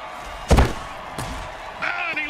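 A hard tackle collision in an American football video game, a single heavy thump with crowd noise behind it, followed by commentators talking.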